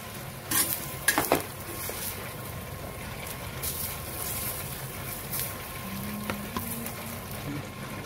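Chavli (black-eyed pea) and potato curry ingredients stirred in hot oil in a pan, with a few scraping utensil knocks early on and a soft sizzle underneath, close and fairly quiet, no talking.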